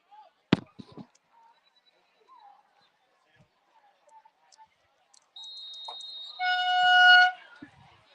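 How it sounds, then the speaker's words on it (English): Train horn sounding at a high school football game between the Franklin Hornets and Berwick Panthers, a sustained moderately loud blast rising in strength over a couple of seconds after scattered faint crowd noise and a sharp thump. "It's the train horn."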